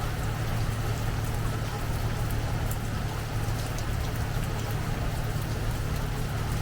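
Steady rain falls during Hurricane Debby, a constant dense hiss with a low rumbling hum beneath it, unbroken and fairly loud throughout.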